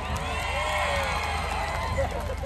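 A large, packed crowd shrieks and cheers loudly and continuously as a celebrity appears, with high voices blending into a steady roar.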